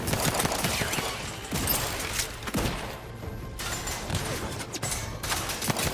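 Gunfire blasting turrets in the video game The Outer Worlds 2: loud, continuous rapid shooting with crashing impacts, a brief lull in the middle, then heavy firing again.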